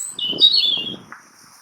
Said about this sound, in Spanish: Petirrojo europeo.